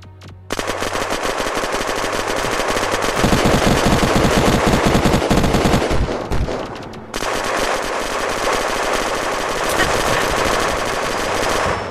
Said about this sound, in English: Someone's shooting from over here.